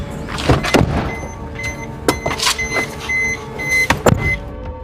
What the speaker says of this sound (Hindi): गाड़ी में बैठो, ठीक है।